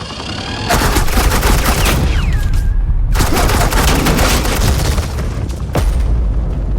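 Heavy suppressing gunfire erupts in a Batman game scene, loud sustained automatic bursts with booming impacts, broken by a short pause before the barrage resumes.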